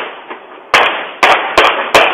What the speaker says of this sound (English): Video from a nearby Ring camera captured the sound of multiple gunshots.